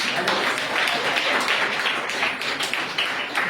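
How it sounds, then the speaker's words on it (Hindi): A church congregation claps during a Hindi sermon, a dense, steady wash of many hands filling the room with continuous broadband patter and no single claps standing out. "ताली बजा लो"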